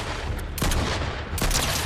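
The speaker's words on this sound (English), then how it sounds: "That's why we love this Monarch pistol" Monarch pistol firing in Fortnite, two sharp broadband bursts about three-quarters of a second apart over steady game noise, loud and close.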